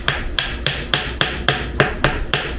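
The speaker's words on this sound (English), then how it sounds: "Now you can slide this over and hammer it the rest of the way down." Steady hammer blows drive a planetary gear part into a 231 transfer case, about nine sharp metallic strikes at an even rhythm, close and loud, with no talking.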